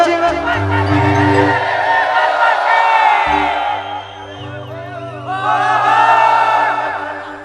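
An outdoor crowd at a Gujarati folk concert sings loudly along in unison with the singer over a steady keyboard and bass accompaniment, with voices rising and falling in phrases.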